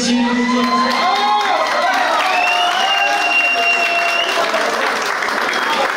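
Loud applause and cheering from a crowd at a graduation ball, with whoops and children shouting layered over continuous clapping and voices, close and energetic throughout.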